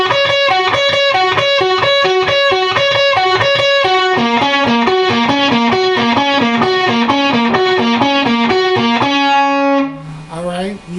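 A heavily distorted electric guitar plays a fast, repeating lick from a song in a tight, even rhythm. It rings out loud and up close, then ends on a held note.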